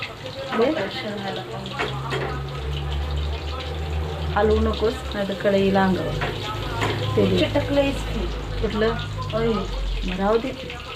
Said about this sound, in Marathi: आता बघूया कसे तळते